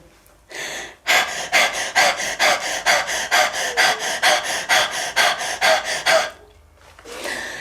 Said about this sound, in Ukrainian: Ми дихаємо тільки ротом.